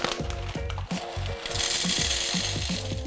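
Coffee grinder grinding beans, a steady, loud whirring grind that turns rougher and brighter halfway through, with rhythmic low thumps underneath and no talking.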